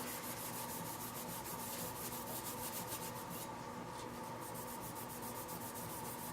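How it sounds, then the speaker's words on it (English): Rhythmic scrubbing of a Heatkiller graphics card backplate with surface cleaner, wiping away residue before painting; steady, close rubbing strokes continue throughout with no talking. "Take off any kind of little residue you might have had from handling it, scrub it on it."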